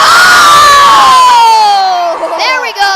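A crowd cheers and shouts loudly at a Cinco de Mayo demolition derby in Los Banos, a sustained roar with whoops and children's voices, dipping briefly near the end.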